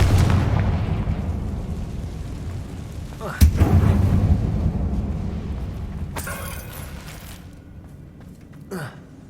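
Bombarda and Confringo spells in Hogwarts Legacy set off a sharp blast over a rumbling game soundscape, followed by crackling debris and a later burst of noise, with faint voice in the background.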